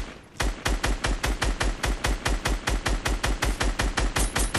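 Rapid automatic gunfire in Fortnite, a fast even string of about twenty-five loud close shots in one sustained burst, with no talking.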